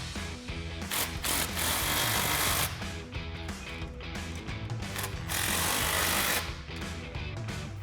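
An impact-style power tool tightening exhaust clamps on the X-pipe of a 2024-2025 Mustang during a Borla ATAK cat-back install, two loud sustained whirring, rattling bursts close by.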